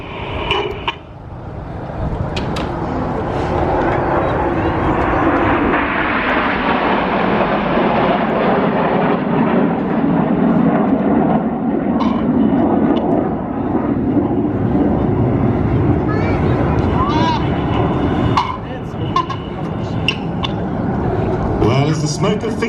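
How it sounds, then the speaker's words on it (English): Royal Air Force Red Arrows Hawk jets at the 2019 New York Air Show, a loud roaring jet pass that swells and holds for many seconds before easing off, with an announcer talking over it. "As the smoke of Phoenix goes off, the aircraft about to bank around to the right."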